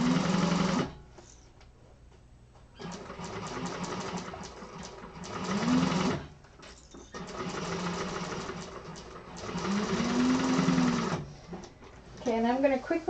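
Sewing machine stitching over a thick seam, running in three bursts of steady mechanical whir with brief pauses between, slowing as it works through the bulky layers; a voice talks softly at the end.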